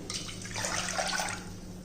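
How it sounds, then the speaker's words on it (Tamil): Water pours steadily into a metal pressure cooker, a close, splashing rush that swells briefly and then settles. "இந்த குக்கரில் தண்ணி ஊற்றிக்கிடுவோம்."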